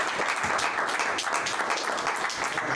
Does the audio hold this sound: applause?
yes